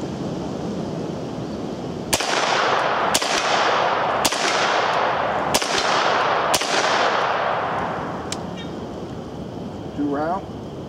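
UMP-9 submachine gun firing single semi-automatic shots at a range, six sharp loud cracks spaced about a second apart, each followed by a ringing decay, with a brief voice at the end.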